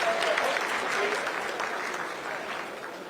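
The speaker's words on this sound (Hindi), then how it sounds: "Lot of applause indicates that till now the performance has been nominal." Applause breaks out in the mission control room during the Chandrayaan-3 lunar landing, a sustained patter of many hands clapping beneath a voice speaking over it.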